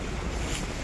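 Sea waves wash onto the beach at Playa Calatagan after a 2024 typhoon, a steady close roar of surf mixed with wind buffeting the microphone, with no voices.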